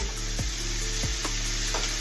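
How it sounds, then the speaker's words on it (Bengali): Sliced onions, about two large ones, sizzle steadily in hot oil in a pan, a constant close hiss with a few light stirring scrapes and no talk, as the base for a koi fish dopiaza. "তো পেঁয়াজগুলোকে আমি এবার একটু ভেজে নেব।"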